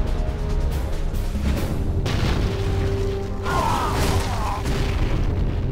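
Offshore artillery fire from a battleship in Command & Conquer Generals Zero Hour, loud continuous rumbling booms and blasts layered densely over one another with low mechanical drone throughout.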